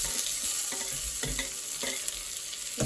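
Chopped tomatoes fry in a pan over previously fried onions for bitter gourd masala curry, a close steady sizzle broken by repeated scraping stirs, no voices.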